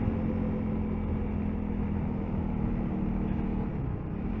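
A 2022 Honda CRF300L single-cylinder engine droning steadily while shifting down into third gear at around 30, a close, even hum with a slight dip near the end.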